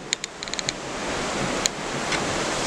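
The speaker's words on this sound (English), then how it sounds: "We'll get one more view of the ocean during the day." Ocean waves and wind are heard from the deck of the MSC Divina cruise ship, a steady broad wash of surf and wind noise with a few light clicks near the start.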